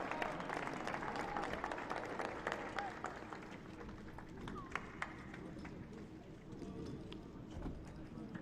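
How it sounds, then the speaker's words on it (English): Crowd at a youth soccer cup final ceremony clapping in an outdoor stadium, a soft, distant patter of applause spread across the space with a faint voice over it. "One more round of applause for Barca Residency Academy."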